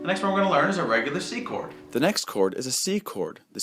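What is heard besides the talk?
No everyday noise stands out behind the speech.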